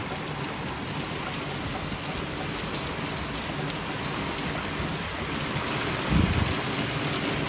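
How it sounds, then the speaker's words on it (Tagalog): Torrential rain roars steadily and loudly, with a brief low thump near the end and no talking. "Grabe, oh, ayan, bumuhos na naman ng ulan."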